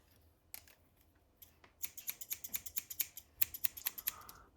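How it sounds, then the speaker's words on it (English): A pair of scissors from a Wahl cordless haircutting kit being handled during unboxing, giving a quick run of sharp, close metallic snips and clicks, about a dozen in a row, with a few faint rustles before them. "a nice pair of scissors"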